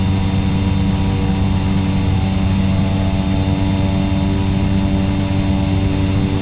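A Cessna Caravan turboprop engine in the X-Plane 11 flight simulator hums as a constant loud drone with steady tonal layers during a night flight, with no talk.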